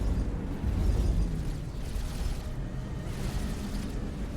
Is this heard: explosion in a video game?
yes